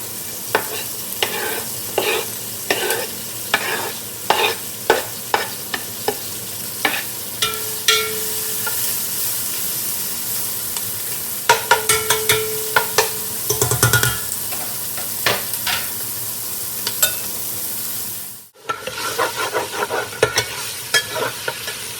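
Onions fry in leftover bacon grease inside a Dutch oven over a charcoal campfire, a soft steady sizzle punctuated by many sharp clinks and scrapes of a spoon stirring against cast iron, close and without talk.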